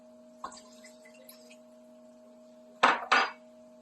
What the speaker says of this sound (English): And I'm going to mix this up really good.